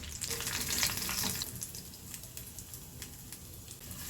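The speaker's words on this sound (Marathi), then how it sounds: "आपण याला छान असा गोल्डन कलर येईपर्यंत फ्राय करून घ्यायचं आहे" Potato rolls deep fry in oil with a dense, bubbling sizzle that is loudest at first, then settles into a softer crackle with light scattered pops.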